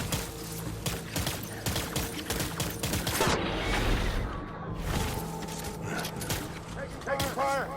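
Gunfire in the video game Death Stranding, a dense, continuous barrage of rapid shots and mechanical clatter, loud and close, with a brief lull in the middle and a voice shouting over the battle.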